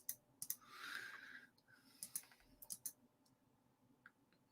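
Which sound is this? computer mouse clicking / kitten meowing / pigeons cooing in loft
computer mouse clicking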